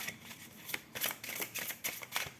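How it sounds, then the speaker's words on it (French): A deck of cards is shuffled during a tarot-style reading, giving quiet, close riffling and rustling bursts in quick, uneven succession with no talking. "je vais touiller les cartes quand même, je vais les mélanger"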